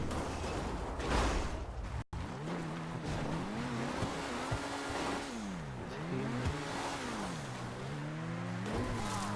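Car traffic in the GTA V Online video game, with engines revving and rising and falling in pitch as vehicles pass, plus a brief sharp thump early on, at moderate level.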